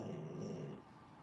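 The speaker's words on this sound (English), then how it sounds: "Can y'all hear my dog?" A dog growls in a low, rough rumble for under a second, then trails off into quiet, faint and close with no talking.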